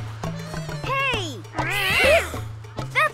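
Cartoon cats meow in a few rising and falling cries, one long wavering yowl in the middle, over a background music beat.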